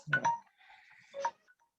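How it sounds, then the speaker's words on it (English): A short electronic alarm tone rings out, a couple of bright chiming beeps separated by a brief held tone, fairly quiet and alone. "Okay, so my alarm is ringing."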